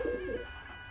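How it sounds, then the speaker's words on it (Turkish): Tumbler pigeons coo in a loft, a low warbling coo close by for about half a second, then fading into quiet background noise. "az önce beklediğim güvercinlerim geldi"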